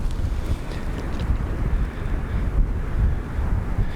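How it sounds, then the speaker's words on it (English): Strong wind buffets the microphone on an open hilltop with cows grazing nearby, a steady low roar with gusty swells throughout and no voices. "I just said like it's pretty nice weather, but it's pretty windy up here"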